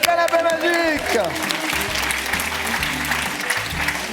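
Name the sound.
audience applause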